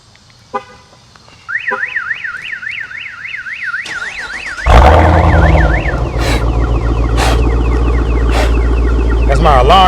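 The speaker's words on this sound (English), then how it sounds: "That's my alarm going off." A car alarm sounds near a Hellcat Durango, first as a rapid warbling chirp, then as a loud blaring siren cycle that keeps repeating. A low engine rumble runs underneath.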